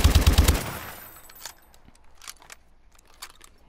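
A rifle in Call of Duty Advanced Warfare fires a short rapid burst of loud shots at the start, then falls to faint clicks and mechanical handling sounds with no talk.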